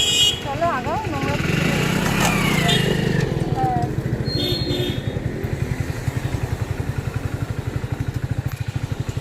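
A motorbike engine putters close by, its rapid steady chug running throughout and growing more distinct toward the end as the bike moves off, while someone talks over it and a horn-like tone briefly sounds.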